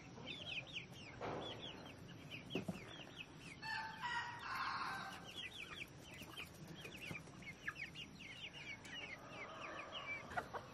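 A group of homestead chickens clucks and chatters steadily at a moderate distance, with a rooster among them and overlapping calls throughout, no speech.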